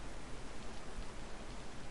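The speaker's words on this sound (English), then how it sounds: "I hate servers that just have this much rain on them." Steady, even hiss of heavy rain falling in the DayZ survival video game, constant and enveloping with no other sounds.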